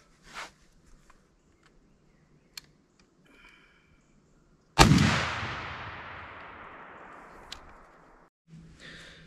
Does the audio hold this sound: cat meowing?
no